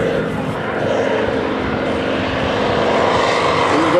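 A North American T-6 Texan propeller airplane makes a low, very fast fly-by with its landing lights on, heard as a steady loud propeller and engine roar with a rising whine near the end.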